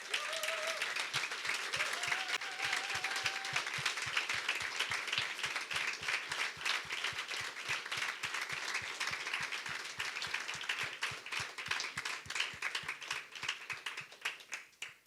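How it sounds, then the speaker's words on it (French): A congregation in a worship gathering claps together in steady, rhythmic applause that carries on loudly and evenly for about fifteen seconds, with a brief vocal note early on and a faint murmur under the clapping. "on va juste les applaudir"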